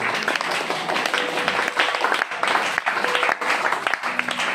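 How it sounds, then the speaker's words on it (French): A church congregation applauds and cheers for the Lord, with dense continuous clapping and voices that fill the room, loud and sustained throughout. "Est-ce qu'on peut encore acclamer pour le Seigneur?"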